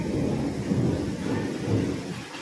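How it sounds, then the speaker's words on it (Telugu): Thunder in a rainstorm in Hyderabad, with strong wind: a continuous low, heavy rumble rolling through the whole stretch, loud and sustained with a slight swell midway and no talking. "మస్తు ఉరుముతుంది."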